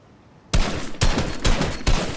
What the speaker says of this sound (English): I end up start shooting at them